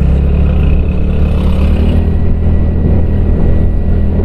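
Loud, continuous rumble of vehicle engines from traffic on a mountain road near a construction site in Meghalaya, a steady close drone with no break.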